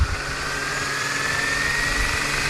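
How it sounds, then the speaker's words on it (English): RC Fly Wing AS 350 helicopter motors arming and spinning up, a steady faint mechanical whine with a rising tone, close by and alone without talk. "Motor arming procedure."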